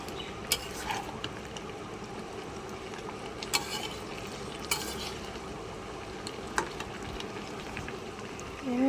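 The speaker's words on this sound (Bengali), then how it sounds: "একটু ভালো করে কষিয়ে নেব একটু।" Jackfruit and prawn curry is stir-fried in a pan, with a steady low sizzle under repeated scraping stirs and a few sharp utensil clinks against the pan, close and with no talking.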